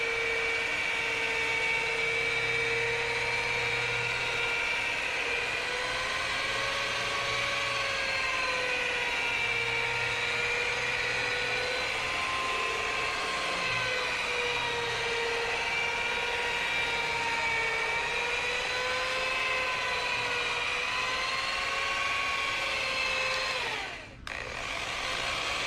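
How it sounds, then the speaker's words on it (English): A rotary polisher hums steadily throughout auto detailing work, its pitch wavering slightly as pressure shifts, with a brief dip near the end; close and continuous, no voices. "Polisher do the work."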